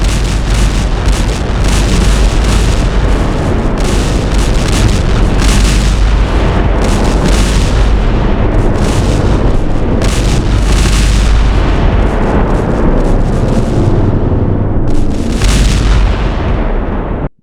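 TNT bomb launcher in Minecraft firing nonstop, a dense, loud barrage of booming explosions overlapping one after another for the whole stretch, with no talking.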